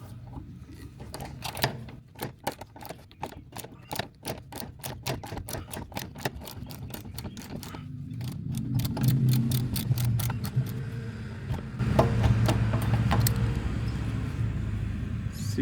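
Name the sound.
loosening a seized bolt with a wrench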